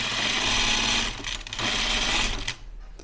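A sewing machine runs steadily, stitching a zipper onto the Upton dress, in a close, even mechanical whir with a brief slowdown midway before it stops.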